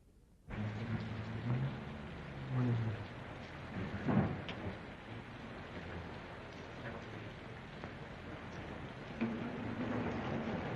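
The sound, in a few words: rain and thunder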